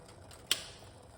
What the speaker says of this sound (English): So we're gonna turn off the cooker because we don't want to boil it.